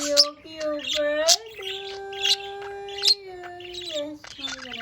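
A pet budgie chirps and warbles in quick bright bursts, near and clear, with short pauses between calls, while a person's voice hums along steadily underneath.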